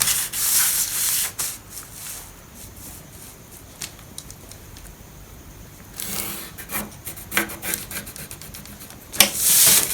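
Pencil or marker drawing lines on a paper bodice pattern, heard as close scratchy strokes and rubbing sweeps in bursts, with quieter pauses between.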